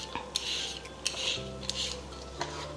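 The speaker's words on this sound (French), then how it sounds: "je vais venir peler ma petite carotte ici" Raw carrot scraped with a peeler, several quick rasping strokes in an even rhythm, soft and close, with a faint low hum underneath.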